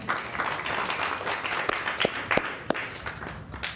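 A comedy club audience applauds as a comedian walks on stage, a steady wash of clapping with a few sharper individual claps standing out, moderately loud and continuous.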